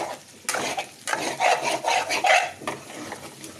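Prawns stir-fried in a pan with onion, a little ginger, garlic and small coconut pieces, a steady scraping stir and sizzle with rhythmic strokes of the spatula, close and fairly loud with no talking.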